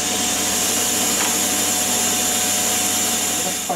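Metal lathe turning down an iron bar to a working diameter for model railway wheels, a steady close whirring hiss of the cut running evenly throughout.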